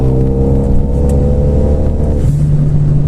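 A car accelerating on its first drive, a loud steady engine drone rising slightly in pitch with a gear change near the end, heard from inside the car without talk.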